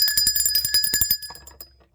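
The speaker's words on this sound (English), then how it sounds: "Let me ring the bell for that." A ringing bell struck in rapid repeated strokes, bright and metallic with sustained high overtones, close and loud, then decaying into a fading ring.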